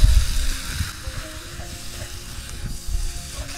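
Shakshuka tomatoes sizzling in a pan on a fishing trip, a steady close frying hiss with soft scraping strokes as the mixture is stirred.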